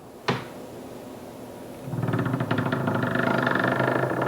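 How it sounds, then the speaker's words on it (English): The hinge on a wooden pine coffin lid with a walnut cross, built as a Halloween prop, gives a sharp click and then a sustained, rough creak as the lid swings open, close and clear with no talking. "Creaky hinge."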